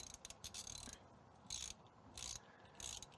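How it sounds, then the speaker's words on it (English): A ratchet working a spark plug loose on a car engine, giving quiet bursts of rapid mechanical clicking in four short separated runs, close and faint, with no talk. "turn in a counterclockwise fashion until the spark plug breaks loose"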